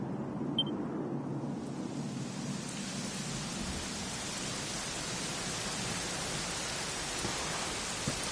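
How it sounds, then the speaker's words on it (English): Steady rain falling in a Dragon Quest XI game scene, a continuous soft hiss with low rumbling undertones, even and unbroken throughout with no voices. "it was raining like this the last time I ever saw her"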